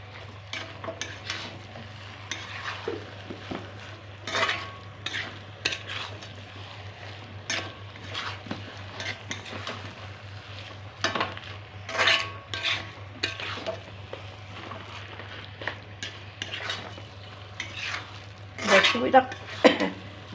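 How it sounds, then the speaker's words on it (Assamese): Spices and ingredients being stirred and fried in a pan for a paneer curry, irregular clinks and scrapes of a utensil against metal over a low sizzle, with a steady low hum underneath. "দি মই এইদৰে গোটেইখিনি লগ কৰি ভাজি ল'লোঁ"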